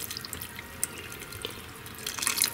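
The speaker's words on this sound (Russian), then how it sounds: "Пусть цветочечки побалуются дождевой водичкой." Rainwater poured from a can onto indoor house flowers, a soft continuous trickle and splash of water with brief brighter spatters, growing a little stronger near the end, quiet and close.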